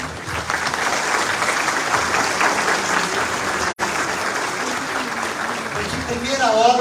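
An audience at an event in São Bernardo gives a couple, Orlando and Carla Morando, a sustained round of applause, dense steady clapping throughout with a brief gap midway and a voice speaking over it toward the end.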